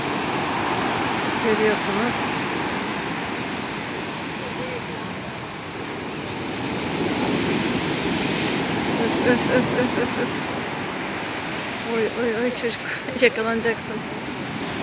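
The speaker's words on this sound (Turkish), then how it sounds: "büyük dalga. Çok kıyıya geldi." Big rough sea waves break on the shore in a broad, continuous roar of surf and wash, with a voice talking and calling out over it.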